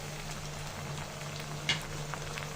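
A ginger, garlic and cumin paste fries in a pan for a chicken liver bhuna, making a soft, steady sizzle with a faint crackle now and then.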